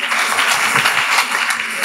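A church congregation claps together to welcome a pastor to the podium, a dense, steady wash of many hands applauding at close range with some voices mixed in.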